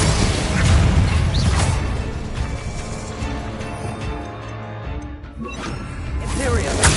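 Incendio fire spell cast in Hogwarts Legacy, a loud burst of flame and crackling blasts layered over game music and other spell effects, with a voice speaking over it.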